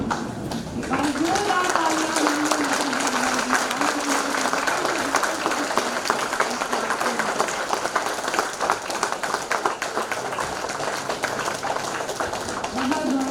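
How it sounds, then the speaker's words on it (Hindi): Sustained, dense applause from a crowd welcoming guests at a formal event between Uttar Pradesh's Training and Employment Department and Tata Consultancy Services, continuing steadily throughout while someone speaks over it through a loudspeaker. "जोरदार ताली के साथ बहुत ही प्रेमपूर्ण स्वागत"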